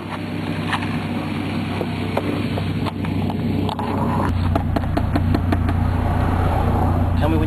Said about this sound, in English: we'll go for a cruise in the Viper